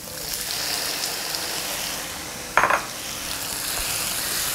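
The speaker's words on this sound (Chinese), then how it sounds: "好，下入我们切好的番茄粒。" Diced tomatoes hit a hot oiled pan with garlic and scallion, giving a steady broad hiss with a brief sharper burst of sizzle and stirring scrape midway, close and alone.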